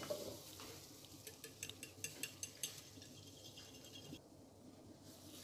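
Eggs with a pinch of salt and a quarter spoon of sugar beaten in a bowl, a run of quick rhythmic clinking strokes at close range, mostly steady with no talking.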